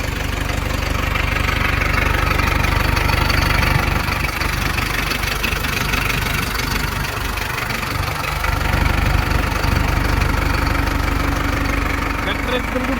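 A 2023-model tractor engine idles close by in a steady, unbroken low rumble with faint knocking and vibration, holding an even level throughout.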